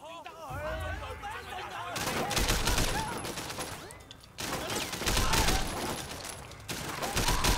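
Rapid gunfire and bursts rattle through a Sleeping Dogs: Definitive Edition shootout, loud, dense volleys that come in waves with brief lulls, while voices chatter over the action.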